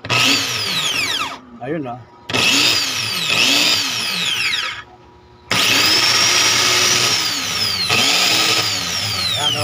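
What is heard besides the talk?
Bosch electric drill running after carbon brush repair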